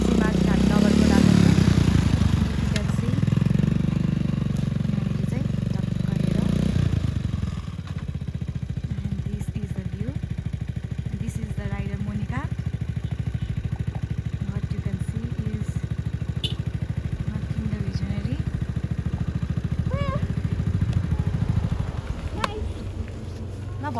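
A 27-year-old Hero Honda 100cc motorcycle runs on a ride to Nagarkot, its low engine drone steady and close beneath continuous talking, louder in the first few seconds before settling into an even hum.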